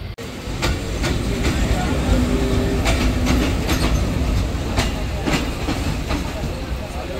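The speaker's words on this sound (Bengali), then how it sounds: "ট্রেনটি প্রবেশ করলো তার 14তম যাত্রাবিরতি স্টেশন আক্কেলপুর রেলওয়ে স্টেশনে।" The Banglabandha Express pulls into Akkelpur railway station, heard from inside the train as a loud, steady rumble with rhythmic clickety-clack of wheels over rail joints.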